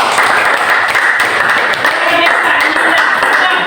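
Students in a classroom clap together after a lesson quiz, a dense, steady wash of applause filling the room for several seconds with a faint voice underneath.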